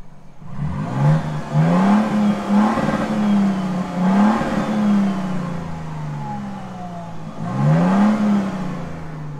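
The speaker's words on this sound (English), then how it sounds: "So I'll give it a few revs for fun" A 2023 Toyota Sequoia TRD Pro with a TRD catback exhaust revs several times in short rising and falling bursts, its engine note moderately loud with pauses between the revs.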